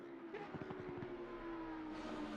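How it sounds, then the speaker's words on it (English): Lamborghini race cars circle a sim racing game track as a steady, faint engine drone with a brief rumbling pulse, heard from a distance. "you can just hear the Lambos on the track"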